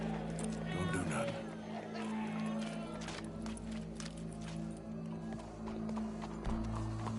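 In the Red Dead Redemption 2 video game, horse hooves clip-clop steadily amid a busy, crowded scene, the rhythmic steps mixed with background murmur and other game sounds.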